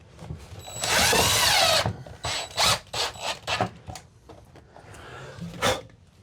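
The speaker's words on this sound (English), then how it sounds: "That's how you torque stuff with the drill." A power drill driving fasteners into plastic during a box van build, with one long sustained whir followed by several short bursts and pulses, fairly loud and close, with no talk over it.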